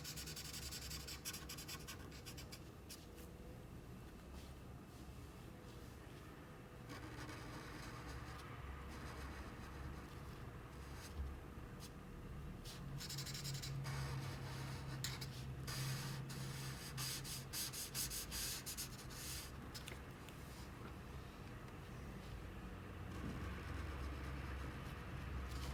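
A graphite-shade colored pencil rubs softly and continuously across paper while coloring a small cup drawing, with faint, close, steady scratching strokes and no talking.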